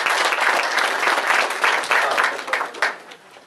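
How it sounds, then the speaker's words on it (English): Graduation ceremony audience at Pilot Point applauds a graduate, a room full of clapping with individual claps and slight cheers audible, fairly close and lively, fading out near the end. "Give him a round of applause for his effort."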